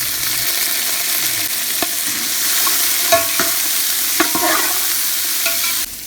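Chopped carrots being stir-fried with chicken in a hot pan, giving a constant loud hissing sizzle, close up, with a few sharp scrapes and knocks of the spatula against the pan scattered through it.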